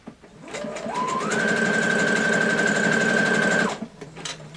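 A sewing machine stitches an appliqué for a cosplay piece, running in one steady burst of several seconds, rising quickly in speed and then holding an even, close mechanical whir before stopping.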